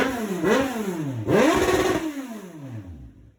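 A 2003 Kawasaki Z1000 motorcycle revs hard twice in a snowstorm, its pitch sweeping up and falling back each time, loud and close, before the engine note winds down toward idle.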